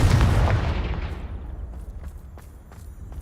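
Confringo spell blast in Hogwarts Legacy, a heavy low explosion at the outset decaying into a long rumbling tail, followed by a few faint light footsteps.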